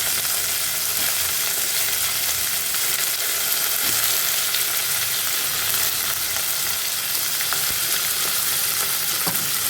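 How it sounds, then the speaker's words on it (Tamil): Onion and tomato sautéing in a pan, a dense continuous sizzle and crackle that holds loud and even throughout, with occasional small stirring pops. "நல்லா வதங்கட்டும்."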